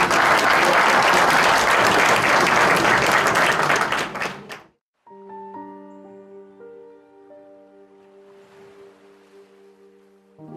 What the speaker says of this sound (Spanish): Recibamos a Paula con un fuerte aplauso.